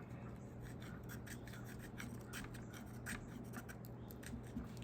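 A BHK Woodsman knife carves shavings off pine pitch wood: a steady, close-up rasping scrape with rapid repeated strokes continuing throughout, no talking.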